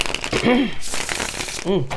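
Tarot cards riffle and shuffle in quick soft bursts close by, mixed with a voice talking over them.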